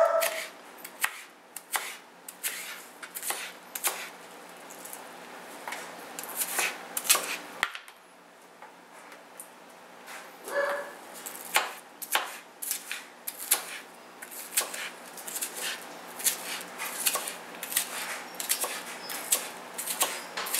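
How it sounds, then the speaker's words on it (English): A knife chops cabbage finely for a salad in a dense, quick series of crisp cuts against a board, keeping up a steady rhythm close by with a brief pause partway through. "you're going to chop it very finely"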